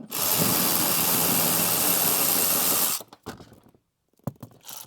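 An electric ratchet runs loud and steady for about three seconds while backing out front seat bolts on a 5th-gen Toyota 4Runner, then stops, leaving a few faint clicks and handling knocks.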